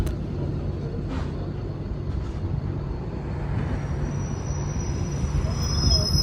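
A slow express train rolls along steadily, giving a continuous low rumble and rattle of wheels and carriage heard from inside, with faint squeals now and then.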